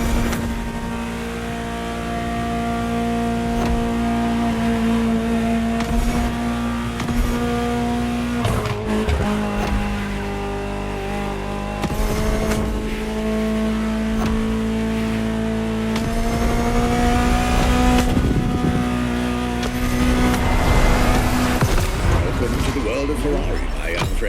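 A Ferrari supercar in The Crew Motorfest screams through a race, its engine climbing and dropping through gear changes with tire squeal and skids, loud and continuous while a voice talks over parts of it.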